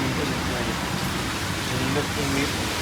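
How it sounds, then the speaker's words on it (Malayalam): Dense, steady rain pouring down, a constant broadband roar with no pauses. "നല്ല മഴയാണ് കേട്ടോ"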